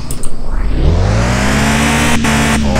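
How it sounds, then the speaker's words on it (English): Toyota Supra engine in the Car For Sale Simulator game revving hard, a loud steady rising roar with harmonic whine building over a few seconds, alone without talk. "let's go see how this sounds like, because this is my first time in a Supra"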